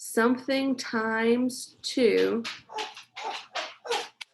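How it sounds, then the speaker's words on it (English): A dog barks a few times close by with a whiny, yelping edge, then a person talks over quieter background. "Sorry, that's my dog."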